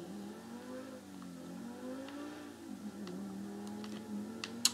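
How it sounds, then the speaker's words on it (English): A car engine in a video game purring and revving faintly, a steady low tone with gentle rises and falls in pitch. "Love how this engine sounds."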